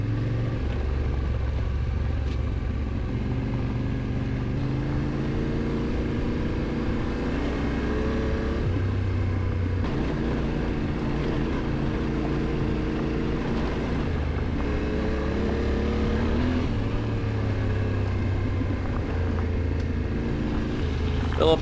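A Kawasaki adventure motorcycle rides along a road at an easy pace, its engine droning steadily with rising and falling pitch as it changes speed, wind noise mixed in throughout.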